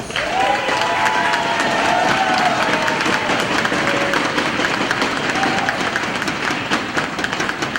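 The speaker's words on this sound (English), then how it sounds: "you guys can give them a big round of applause" Convention audience at a 2013 member convention gives a big round of applause, a dense, loud wash of clapping and crowd noise with faint cheering and whistle-like tones, sustained throughout.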